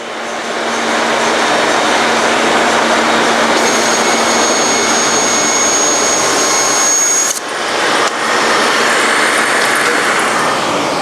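A Model 2054 foam saw roars loudly and continuously as it cuts foam, a harsh high whine with a brief dip partway before resuming at full strength, no talking.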